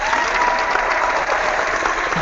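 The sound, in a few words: applause at start of online seminar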